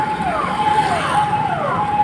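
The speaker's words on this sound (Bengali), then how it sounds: "এই হচ্ছে পুলিশের গাড়ি" A police car siren wails continuously in a wavering rising-and-falling tone over steady traffic noise on a street in Behala, loud and close throughout.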